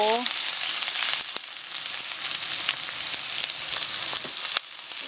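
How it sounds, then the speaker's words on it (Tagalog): Onion frying in a pan for fresh spring rolls gives a loud, dense, continuous sizzle with occasional sharper crackles and pops, close by and with no talk. "hintayin lang natin maluto yung onion"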